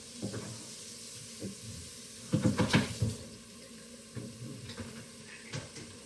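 Cooking pot rinsed under running water at a home stove while a bud and beef stew keeps cooking, giving a steady hiss with a louder burst of splashing and clattering midway, then quieter trickles.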